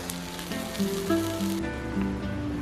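Vegetarian sausages sizzle on an outdoor New Year's Day barbecue near a beach, a steady close crackle and hiss with a faint tonal hum underneath.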